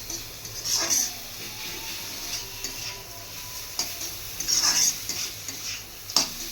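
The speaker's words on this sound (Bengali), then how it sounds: "সবজিগুলো ভেজে নিচ্ছি।" Vegetables sizzle in a pan while being fried for a sweet fried rice, with soft frying hiss broken by bursts of spatula scraping and stirring against the pan.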